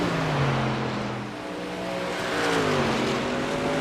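A bright blue Chevy Silverado race truck, number 96, revs hard during a celebratory burnout in a racing video game, a steady loud engine roar with pitch rising and falling in waves, dipping briefly midway.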